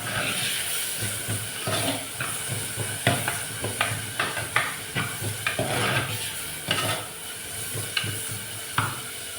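Onions frying in a pan for a dried fish curry, with a steady sizzle and hiss throughout and repeated spatula scrapes and taps against the pan at an uneven rhythm. Close and fairly loud, with no talking.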